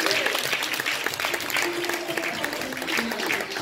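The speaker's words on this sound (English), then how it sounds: "Give God a hand clap of praise." Congregation clapping in praise at a church Mother's Day gospel musical, a dense, continuous wash of hand claps from a full room, with voices mixed in beneath.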